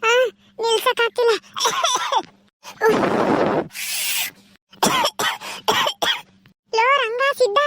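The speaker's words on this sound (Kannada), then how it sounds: "ನನಗೆ ಕೆಮ್ಮು ಸಖತ್ತು ಕೆಮ್ಮು ಬರ್ತೈತೆ ಕಣಲ್ಲ ಈ ಬಿಡಿ ಸೇದಿದ್ಕೆ" An elderly man coughs after smoking a beedi, giving several loud, harsh, hacking bursts close by, mixed with talking voices before and after.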